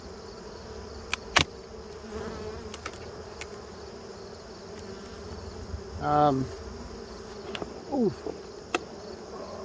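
Bees drone softly and steadily around an open hive as comb is being worked, a low insect hum running throughout with a few brief knocks and one short vocal grunt.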